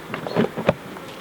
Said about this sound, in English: Wasps. 3 wasps here, look.